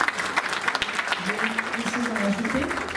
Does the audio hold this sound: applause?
yes